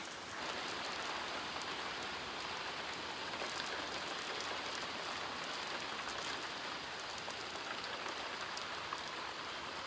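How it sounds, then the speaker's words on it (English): Steady rain pouring during a powerful June thunderstorm, a dense continuous hiss of drops on surfaces, even and unbroken throughout with no voices. "now that the rain started, the wind will calm down"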